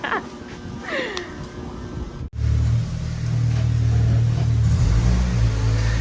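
A Kawasaki ZX6R 636 motorcycle with a Link Pipe exhaust revs loud and close. Rough idling and a few quick blips give way, after a sharp break, to a sustained deep, throaty roar.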